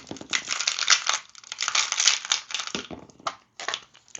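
Rune stones clatter and tumble onto a surface in a dense run of rattling, crinkly impacts, then thin out into a few scattered clicks near the end, close and moderately loud with no talking.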